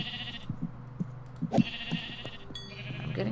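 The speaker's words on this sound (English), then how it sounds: "Slowly but surely getting better at killing sheep." Sheep in the video game Minecraft bleat several times in short, close bursts over a low steady game hum, with no talking.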